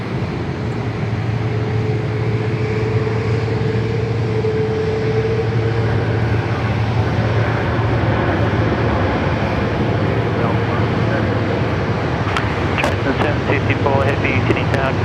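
A Boeing 787-9 from Zhengzhou touches down on runway 16 right at Sydney Airport, its broad steady engine roar holding throughout at a constant level, while a voice talks over it.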